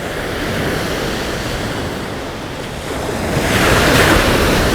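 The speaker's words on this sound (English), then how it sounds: "Can you catch the waves as they're coming up here on the shore?" Waves break and wash up on the Lake Superior shore in a steady rushing surf with wind buffeting the microphone, swelling louder near the end.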